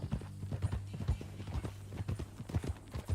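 Horse hooves clip-clopping at a steady walking rhythm in Red Dead Redemption 2, fairly close and continuous, with faint voices underneath.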